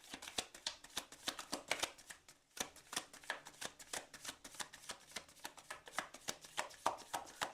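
Tarot cards are shuffled close up in a quiet room, a run of quick, soft riffling snaps repeating in a steady rhythm, with a short pause near the two-second mark.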